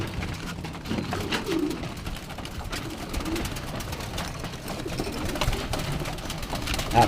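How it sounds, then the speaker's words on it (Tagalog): Low cooing from kept pigeons close by over a steady mechanical hum, with soft rustling and occasional background voices. "So yan sila mga kalapatids, Yan. Yan, mga alaga nating ibon"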